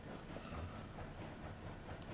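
A long train in the RailRoads Online video game runs downhill with a faint, continuous rumble and soft wheel clatter. A brief high squeal sounds near the end.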